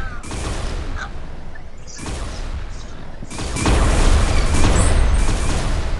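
Gunfire in the Roblox game Arsenal, rapid bursts of booming shots in clusters with short pauses, growing louder and denser toward the end.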